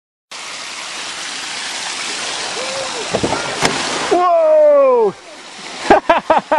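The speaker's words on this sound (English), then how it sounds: "Look at the water flowing out of that thing." Water pours and gushes out of an old caravan after it was driven at high speed into a lake, a steady broadband rush heard up close with voices talking over it and brief knocks and squeaky tones near the end.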